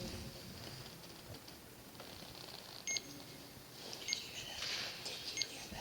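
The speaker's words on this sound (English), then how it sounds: "Yep, it's beeping." A few short, faint electronic beeps sound over quiet background hiss and light wind noise, spaced irregularly, at the West Virginia State Penitentiary.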